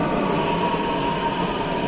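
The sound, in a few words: metro train arriving at station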